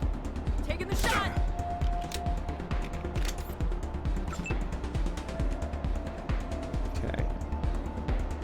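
Gunfire in the Wasteland 3 video game: a sharp shot near the start rings out over a busy, dense bed of game music and clatter, with smaller impacts scattered through the rest of the turn.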